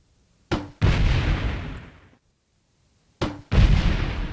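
Two grenade explosions in the video game Delta Force 2, each a sharp bang followed by a long rumbling boom that fades out, spaced a few seconds apart and heard alone.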